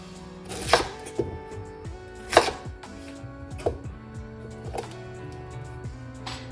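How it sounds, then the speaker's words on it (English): A knife cuts through a fennel bulb on a cutting board in a home kitchen, giving about five crisp, separate chops that knock against the board at an uneven pace, close and clear with no talking. "I'll probably just get to cut it in half"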